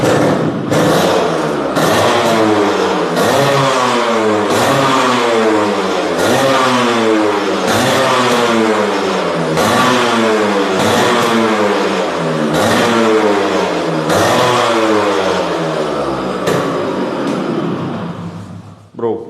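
A used Yamaha scooter engine starts and revs repeatedly, loud and close, with a steady rhythmic rise and fall of throttle blips lasting nearly twenty seconds before cutting off.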